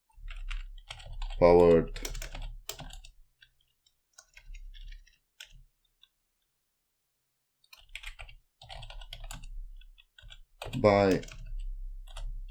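Computer keyboard typing while writing HTML code, light clicky keystrokes in short clusters between stretches of a person talking, with quiet gaps.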